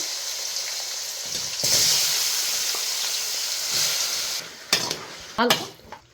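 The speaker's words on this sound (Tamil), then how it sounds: "எண்ணெயை ஊற்றிட்டு கறியை போட்டுக்கலாம்." Chicken pieces drop into hot oil in a kadai and sizzle with a steady, bright hiss, punctuated near the end by a few louder sputtering bursts as the meat is stirred.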